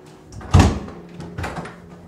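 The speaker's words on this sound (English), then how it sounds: "I guess mic the door hinges, why don't you?" A door swings open with a loud creak of its hinges, followed by a fainter second creak as it settles, close by and with no talking.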